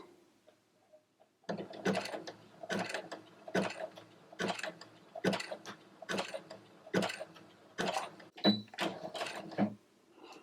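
A sewing machine fitted with a button sew-on presser foot stitching a button at a 3.5 stitch length, starting after a quiet pause and running in close, regular bursts of mechanical ticking and whirring.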